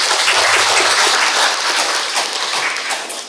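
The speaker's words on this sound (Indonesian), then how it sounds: "Kita beri tepuk tangan yang meriah untuk mereka." Loud, dense applause fills a church wedding ceremony as the congregation claps for the school choir, steady and sustained throughout before tapering slightly at the end.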